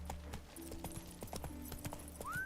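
Horse hooves clip-clop in The Witcher video game, a steady run of hoof strikes under a game soundtrack with a brief whinny-like rising tone near the end.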